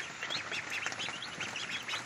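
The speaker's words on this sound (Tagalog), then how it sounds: "Ang ating mga alagang itik." Domestic ducks kept on a farm quacking just after their morning feed, a busy overlapping chorus of nasal calls from several birds, moderately distant and fairly quiet, with no talking.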